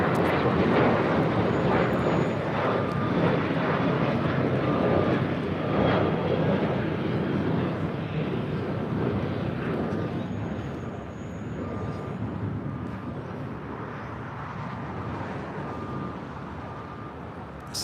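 An airliner takes off from runway 25 right at LAX, a heavy sustained engine roar, loud and close at first and easing slightly as it climbs away, with no speech.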